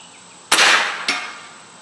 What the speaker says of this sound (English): I hit the plate, but I couldn't really tell you where.